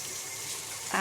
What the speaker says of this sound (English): rinsing my hands off